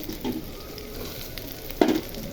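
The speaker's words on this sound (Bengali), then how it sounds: "এখন পেঁয়াজ কুচি দিয়ে দিব।" Chopped onion fries in oil that already holds garlic and chillies, producing a steady close sizzle broken by two short scraping stir knocks.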